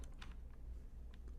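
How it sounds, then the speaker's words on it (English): Keystrokes on a computer keyboard while typing a name into a vector design program, a few quiet, scattered clicks at a steady pace over a low background hum, with no voices. "So I'm just gonna type in Magnolia Sky."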